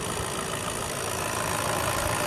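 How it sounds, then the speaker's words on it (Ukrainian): The 2.0-litre diesel engine of a 2018 Volkswagen Transporter T6 van idles at a steady, even rumble, close by, with no other sounds around it. "Працює двигун ідеально, жодних посторонніх звуків від ремня чи ще від чогось немає."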